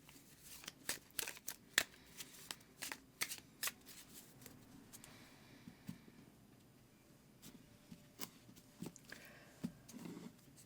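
Tarot cards are shuffled in a series of quick, crisp riffling snaps, irregularly spaced and close by, with no talking.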